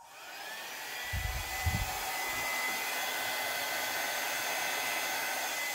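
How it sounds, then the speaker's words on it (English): A mini blow dryer blows steadily on acrylic pour paint, a continuous airy whir that runs throughout with a brief low thump near the start. "I am extremely happy with this blow dryer."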